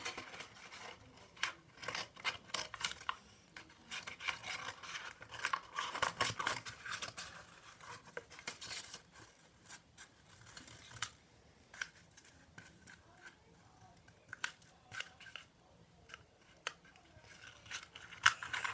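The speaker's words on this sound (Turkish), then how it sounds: "Makasımı aldım. Kesiyorum." Scissors cutting paper for a handmade phone holder, a run of quick close snips and crisp paper rustles at a soft level with no talk.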